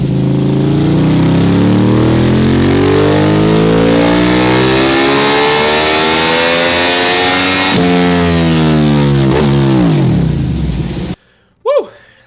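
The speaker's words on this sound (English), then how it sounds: "Here's a sound clip in case you needed a refresher on what a hot-ass V-twin sounds like" Ducati 1299 Panigale V-twin engine revs hard and loud up close, rising and falling through several sweeping throttle blips before cutting out, followed by a couple of brief bursts.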